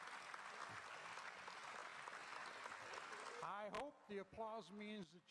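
Audience applause from a crowd, a dense steady clatter of clapping for about three seconds before a voice starts talking over its fading tail.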